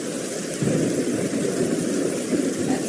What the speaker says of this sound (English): we've got heavy thunderstorm.